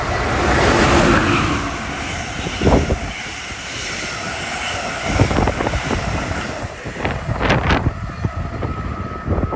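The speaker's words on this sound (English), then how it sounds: "Train approaching. Please remain behind yellow line." A loud, rushing rumble of a train drawing near a station in Madison, Connecticut, with clanking and screeching bursts rising toward the end.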